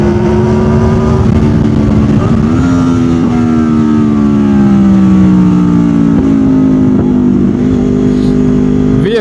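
A Honda VFR800 VTEC motorcycle fitted with a Delkevic exhaust and Lextek headers revs loudly and continuously close by, its engine note climbing and dipping through several throttle blips.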